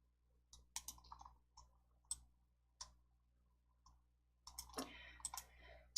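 A computer mouse clicks crisply and close by in a quiet room, single clicks spread out at first and then a quicker cluster near the end.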